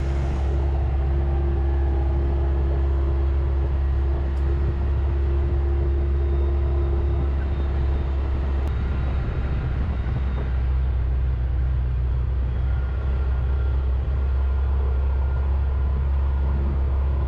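A vehicle driving over hunting land down to a pond, heard as a steady low engine rumble and road noise from inside the cab, continuous and fairly loud with no talk.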